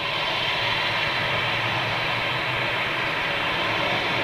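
A Boeing 777 with GE90 engines roars steadily and loudly, a broad, continuous jet rumble and whine holding at constant strength throughout with no voices over it.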